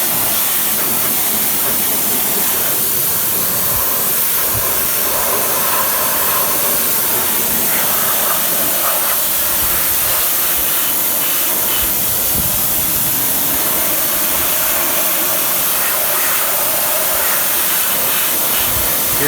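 A pressure washer blasts a car engine bay clean behind and under the suction control valve, a loud, continuous hissing spray roar that stays steady throughout with no voices.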